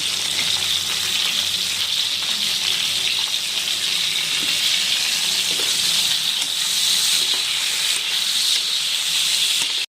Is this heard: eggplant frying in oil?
yes